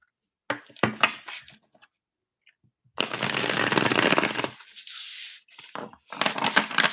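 A deck of cards being shuffled up close: a few quick riffling bursts, a pause, then a long continuous rippling shuffle and a final flurry, with no talking.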